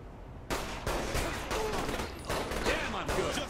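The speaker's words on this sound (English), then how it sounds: "Minigun!" Minigun fire in Saints Row the Third comes in loud, sustained bursts that cut in abruptly and pulse in rapid waves, with game dialogue mixed underneath.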